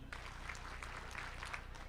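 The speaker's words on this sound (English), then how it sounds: "Clap 5 times if you can hear me" A gala audience in St. Louis claps together in a steady, roomy patter that runs for about two seconds at moderate distance, sounding like a few rhythmic group claps blurred into a short burst.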